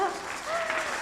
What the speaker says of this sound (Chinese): 太可爱了，拍拍手好不好？